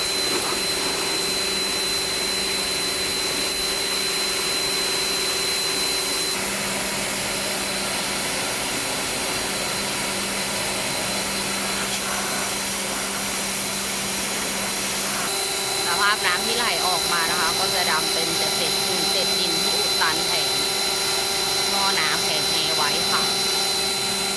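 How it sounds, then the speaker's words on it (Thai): Water sprays under pressure across the front condenser panel of a Toyota Revo during an air-conditioning service, making a steady, loud hiss with a constant mechanical hum beneath it. A sharper, more textured spray enters partway through. "ทางจัดการฉีดล้างความสะอาดแผงแง่หน้ารถให้ค่ะ"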